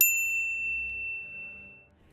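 A single bright notification bell ding rings out once, clear and close, then fades slowly over a soft low hum with no voices.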